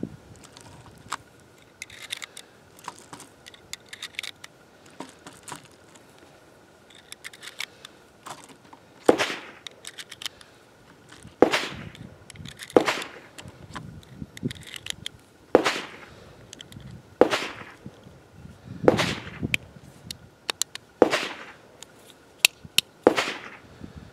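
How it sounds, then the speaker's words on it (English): Remington 230-grain full metal jacket rounds being pressed one by one into a Chip McCormick RPM Power Mag for a Kimber 1911, making a series of crisp, close metallic clicks spaced a couple of seconds apart, with light handling noise between them. "Go ahead and get this RPM mag loaded up."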